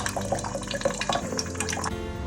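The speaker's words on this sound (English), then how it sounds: "This is how the water runs here." Tap water running into a sink at a mountain cottage in Kasar Devi, a steady close splashing stream with some dripping and no voices.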